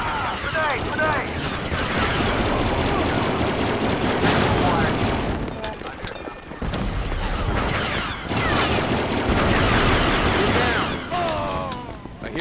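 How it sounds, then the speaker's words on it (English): Grenade explosions and gunfire in a military shooter video game battle over a command post, with loud booms and rapid shots layered under shouted voices and dense combat noise. "Grenade! Grenade!"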